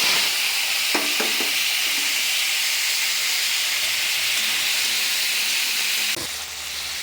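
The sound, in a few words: mustard seeds sizzling in hot oil for tempering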